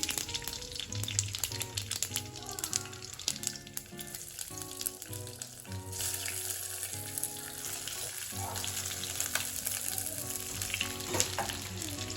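Colocasia leaf muthiya frying with white sesame seeds, giving a continuous crackling sizzle with intermittent stirring scrapes, moderately quiet and close, while soft background music plays underneath.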